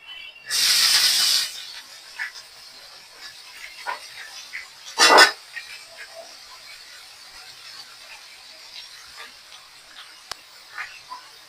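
Leafy greens dropped into hot oil with onion and garlic, a sharp loud hiss bursting at the start, a second brief hiss later, then quiet faint crackling.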